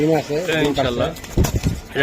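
A high-flying Giribaz pigeon coos in short warbling bursts, followed by brief rustling like wing movement, with people talking nearby.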